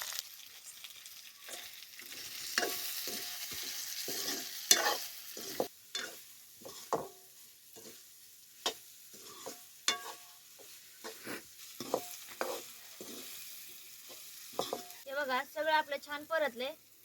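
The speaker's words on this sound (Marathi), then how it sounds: "असं छान शेंगा परतून घ्यायच्या ह्याच्यात आणि ह्याच्यात लगेच थोडस मीठ टाकून घ्यायचं" Drumstick pods are stir-fried with salt in a pan, with repeated sharp scraping and stirring strokes over a soft sizzle, and a voice is briefly heard toward the end.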